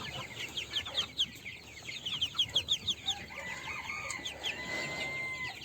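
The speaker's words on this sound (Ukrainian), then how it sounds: "Це кури." Chickens cluck nearby in a busy, rhythmic string of short calls, with more distant fowl chattering and some faint background noise.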